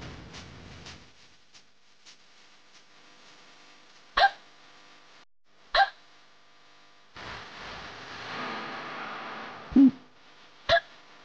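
A woman hiccups repeatedly in a household drama scene: four sharp, isolated hiccups arrive at irregular intervals over a quiet room, with a stretch of soft background noise between them.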